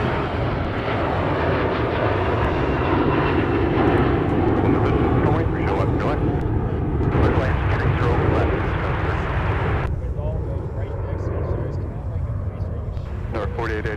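An American Airlines Boeing 737 airliner at MSP airport roars steadily and loudly throughout, a continuous jet engine rush with voices talking over it.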